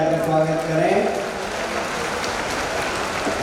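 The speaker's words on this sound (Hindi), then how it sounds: "पुष्पमित्र भार्गव जी के लिए भी जरा तालियां बजाकर स्वागत करें" A crowd at a tree-planting event in Indore applauds to welcome Mayor Pushyamitra Bhargav, with steady, dense clapping that fills the whole stretch. A voice is heard over it near the start.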